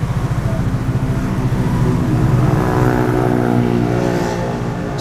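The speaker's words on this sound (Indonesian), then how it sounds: "Suasana lalu lintas khas di Minggu sore di kawasan Cibubur" Steady, loud Sunday-afternoon street traffic rumble in Cibubur, Indonesia, with passing engines and wind noise, heard close up from inside a Hyundai Stargazer X with the window open.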